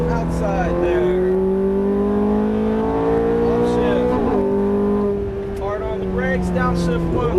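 A Ferrari F430 on a race track revs and accelerates, its engine note climbing steadily in pitch with a brief shift dip midway, close and loud beneath an instructor's coaching voice.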